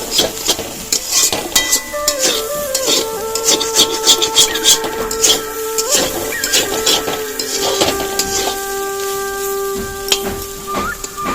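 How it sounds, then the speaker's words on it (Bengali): Potatoes frying in a pan and starting to stick to the bottom, stirred with repeated scraping strokes that give sharp squeaks over a low sizzle, loud and close, with no talking. "একটুখানি হলেই আলু ভাজা কমপ্লিট।"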